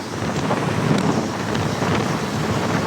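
Steady, loud wind roars over the microphone throughout a night motorcycle ride, with no voices over it.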